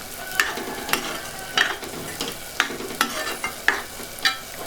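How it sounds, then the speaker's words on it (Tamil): Spoon stirring a bottle gourd and beans curry in a pot, scraping in a steady rhythm of soft strokes about every half second over a faint sizzle, close and moderately loud with no voices. "ரெண்டையும் சேர்த்து நல்லா மிக்ஸ் பண்ணி விட்டுருங்க."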